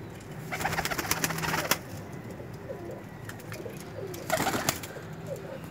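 Soft cooing from a breeder's high-flying pigeons rises in two brief busier bursts near the start and end, with quieter low murmuring in between and no voices.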